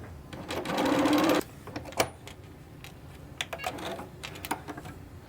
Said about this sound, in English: sew it, come back and get the next 2 blocks, sew them together.